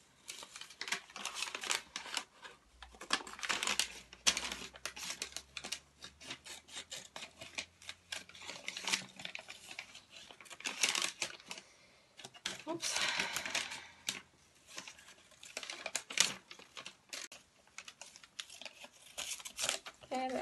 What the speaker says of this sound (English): So what you want to do is cut on the pencil line for this one.